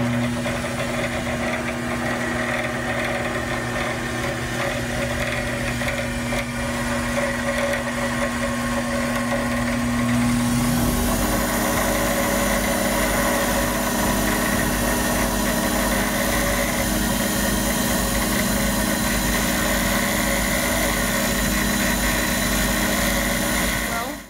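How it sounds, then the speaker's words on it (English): A lathe runs steadily as a pen blank turned from a bowling ball is polished, a continuous hum and whir whose tone shifts partway through, with faint talk underneath. "now I'm going to make it super shiny with some polish"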